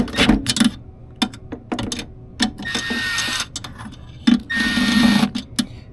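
A deep 7mm socket on an extension tightening headlight retrofit bolts on a 2010-2015 Chevrolet Camaro gives close, rapid ratcheting clicks in short bursts with brief pauses between turns.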